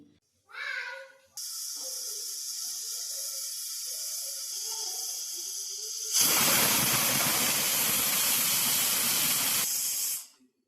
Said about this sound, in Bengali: আমরা ছয় সিটি দিয়ে দিয়েছি